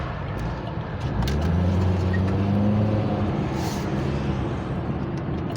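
Steady multi-lane road traffic, with cars, buses and trucks rumbling past on a wide road of three eastbound and four westbound lanes plus a center turn lane; a continuous loud roar with engine drone swelling mid-clip.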